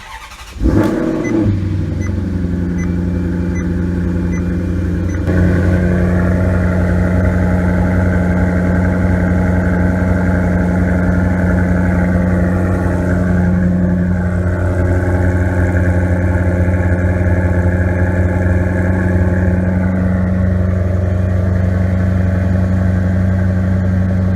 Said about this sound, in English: One of my favorite things about the Maserati is starting it up, getting to hear the exhaust.